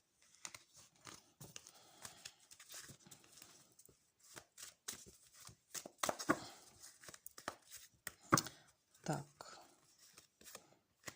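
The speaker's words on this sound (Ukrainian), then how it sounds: "Ой, оце карти порозліталися." Soft papery rustles and scattered flicks of tarot cards being shuffled and gathered, close and quiet, with faint speech between.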